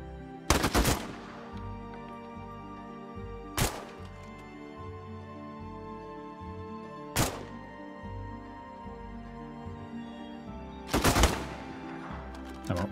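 Four heavy gunshots or short bursts crack out in State of Decay 2, spaced a few seconds apart and ringing against a low, droning game background, with no talking.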